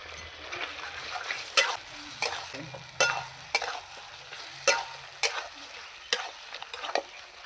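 Tomatoes are stirred into meat browning in a pan for kosha mangsho, giving a soft sizzle beneath repeated sharp scraping and knocking strokes of a spatula at irregular intervals, close up and without talking.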